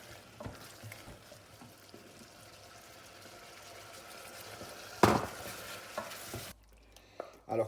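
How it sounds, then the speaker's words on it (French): Pasta carbonara stirred vigorously in a pan, a steady scraping, sizzling churn close by with a few louder knocks of the utensil near the end. "Bien mélanger énergiquement."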